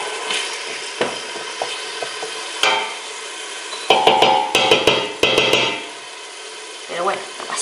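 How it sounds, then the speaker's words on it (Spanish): Onion and carrot sauté in a pan at home, with a crackling sizzle under loud, rhythmic utensil clatter and tapping, a burst of rapid knocks midway, and some faint background voice. "He puesto cebolla, la zanahoria y ahora ya lo que voy a hacer es pocharlo"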